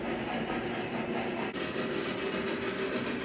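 A 3-rail scale model train runs steadily along its track, a continuous close rolling rumble with faint rhythmic clicking throughout.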